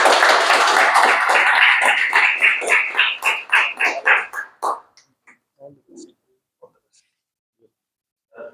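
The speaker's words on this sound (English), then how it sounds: "Big round of applause" Audience applause at an office open mic event: dense clapping from a crowd that thins into separate claps and fades out after about five seconds, leaving a few scattered taps.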